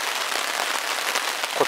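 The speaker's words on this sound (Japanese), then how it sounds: "雨を狙って来てはいるんですけど、ちょっと思った以上に降りすぎですね" Heavy rain pours down at a lakeside campsite during the rainy season, a dense continuous hiss of drops drumming on surfaces, loud and steady throughout.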